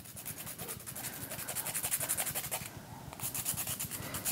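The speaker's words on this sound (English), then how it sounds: "We got a little hand filer here." A small hand file rasping against fingernails during gel polish removal, a close, steady run of quick scratchy strokes that pauses briefly before resuming.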